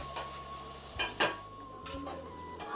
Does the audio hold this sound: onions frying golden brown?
yes